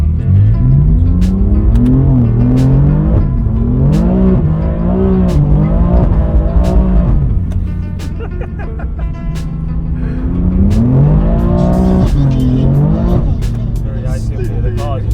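A rear-wheel-drive BMW M4 slides on an icy mountain road, its engine loud and close, revving up and down in repeated surges with a brief lull midway before climbing hard again.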